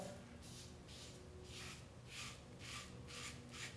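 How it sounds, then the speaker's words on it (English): A Henson AL13 safety razor scrapes across stubble in quick, regular strokes, a faint close rasping repeated about eight times. "Very smooth shaving. I feel like I can't nick myself with this."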